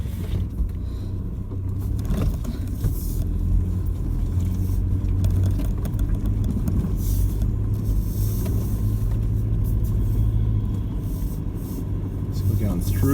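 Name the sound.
vehicle driving up a slippery dirt track after rain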